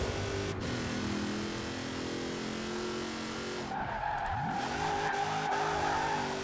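A modified drift van in the Forza Horizon 4 racing game revs hard at high speed, engine pitch climbing and dropping through gear changes, with tire squeal and skidding layered over the steady loud roar.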